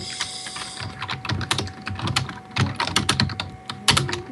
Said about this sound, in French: je déteste mon nouveau clavier.